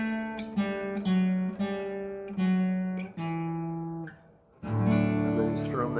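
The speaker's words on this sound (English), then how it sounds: "just the bass line sounds like this" A song's bass line is picked on guitar, with distinct plucked notes ringing one after another and a short pause before a final fuller strum, loud and close.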